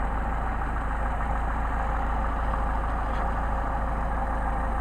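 A Solex moped engine idles at a constant, even drone, close and steady from start to finish with no other sounds over it.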